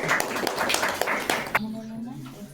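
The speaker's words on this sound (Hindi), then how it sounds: "इनके लिए ताली हो जाए" A classroom of students claps for a ninth-grade student after an answer, a short burst of rapid applause that stops abruptly, followed by a voice speaking.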